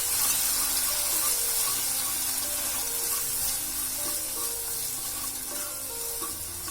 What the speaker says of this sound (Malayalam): കെച്ചപ്പ് ചേർത്തിട്ടൊന്ന് വഴറ്റാം